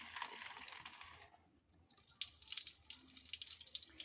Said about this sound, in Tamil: திரும்பி தண்ணி ஊற்றி கழுவு போகிறாங்க